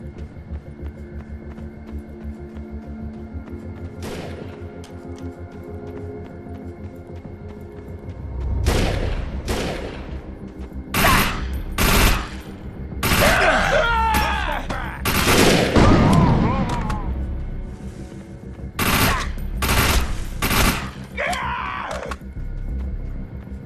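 Gunfire from the video game Defiance: repeated bursts of automatic fire and shots in clustered volleys, loud and close, with booms and thuds between them and a steady background hum, no talking.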